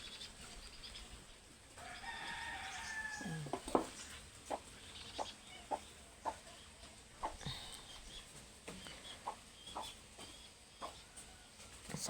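Peruvian chickens clucking outdoors in the morning after rain in a series of short, irregular calls against a quiet background, with one rooster crow rising early on.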